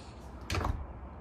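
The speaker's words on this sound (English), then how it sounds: "and you swing it and it shuts" A metal door in a garage swings and shuts, one brief loud clunk with a short scraping rattle, heard alone over a quiet room background.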